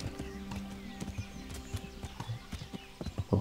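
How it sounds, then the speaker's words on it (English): Horse hooves clip-clop in a quick, uneven trot in Kingdom Come Deliverance, a string of close, soft thuds with a brief whinny, while someone talks over the steps. "The horse just did like a side trot."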